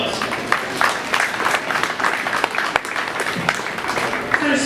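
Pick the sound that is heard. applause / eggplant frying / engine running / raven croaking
applause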